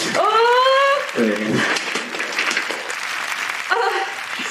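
A crowd at The Game Awards 2020 applauds steadily under a loud voice and bright, swelling music, the clapping continuing throughout.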